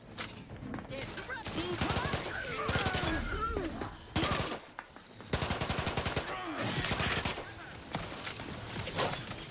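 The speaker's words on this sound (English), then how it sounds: "quit shooting me" Rapid bursts of automatic gunfire and scattered shots in the Outer Worlds 2 video game, loud and close, clustered in volleys with brief pauses, while voices speak over parts of the firefight.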